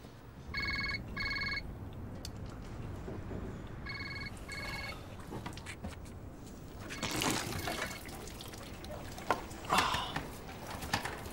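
A telephone rings in a scene from a British crime film, sounding two double-burst rings near the start over a steady background hum, followed by bumps and shuffling noise.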